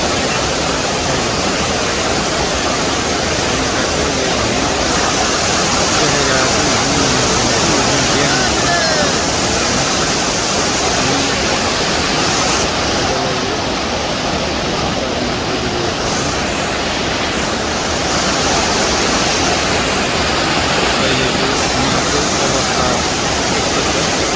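Floodwater pours over the Domukha dam in a steady, loud, unbroken roar of rushing water that lasts throughout.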